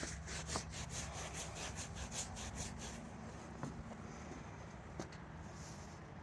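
Dandy brush stroking a miniature horse's coat: faint, close rhythmic swishing strokes in quick repeated bursts, then a few sparser strokes, with no talk.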